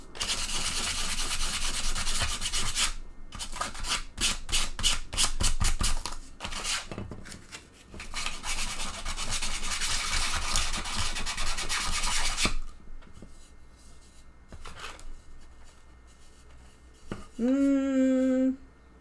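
Sanding a plastic T-Rex bust with 180 grit sandpaper: loud, rough rubbing strokes in quick bursts, pausing and resuming, then quieter handling noises and a brief tonal squeak near the end.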